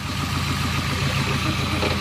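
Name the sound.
car engine idling with rod knock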